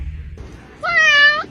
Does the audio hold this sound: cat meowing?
yes